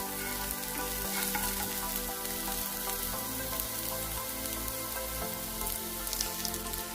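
Crushed onion, chili and curry leaves fry in a pan of hot oil for a bitter gourd stir fry, a dense steady sizzle with crackling pops throughout, loud and close with no talk.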